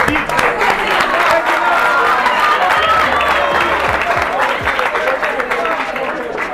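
Audience applause at a university ceremony presenting a cup to the rector, loud, dense and sustained throughout with crowd noise mixed in.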